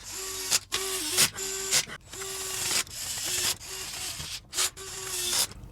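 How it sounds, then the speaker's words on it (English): Small screws are driven into a plastic toy's head, likely with a powered driver: several short mechanical whirring bursts, close and fairly loud, broken by brief silences. "Now we can go ahead and screw in the screws in the head,"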